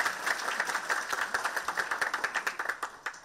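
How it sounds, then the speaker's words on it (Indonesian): Audience applause at a youth talk and discussion event in Jakarta, a steady wash of many hands clapping close and fairly loud throughout, with no talking over it. "Mari kita berikan tepuk tangan meriah di belakang ini."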